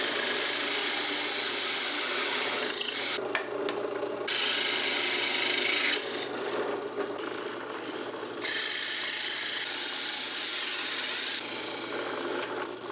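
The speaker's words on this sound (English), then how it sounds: "I'll use my hole saw to make some plugs" A hole saw bores through wood to cut 2 1/8 inch plugs, giving a steady, loud rasping grind that drops out briefly in a few short pauses and then resumes, with no talking.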